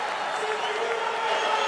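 X Games skateboard street final crowd in Sydney cheering and applauding, a dense, sustained roar of clapping and voices that holds steady and swells slightly toward the end.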